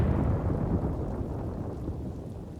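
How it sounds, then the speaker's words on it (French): Thunder rumbles low and heavy over steady rain, a loud rolling roar that slowly fades across the stretch, with no voices. "un énorme éclair vient frapper l'arbre qui était juste à côté"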